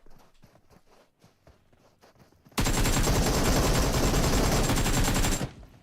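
Gunfire in the mobile battle royale game PUBG Mobile: after quieter shuffling sounds, a loud, sustained burst of rapid automatic shots runs for about three seconds, then cuts off abruptly.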